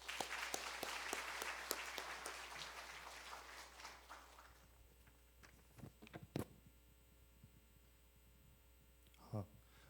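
A church congregation at a worship service applauds a deacon before his testimony. The fairly quiet clapping fades out after about four seconds, leaving a steady electrical hum and a few scattered knocks.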